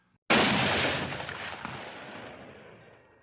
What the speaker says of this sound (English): The sound of a gunshot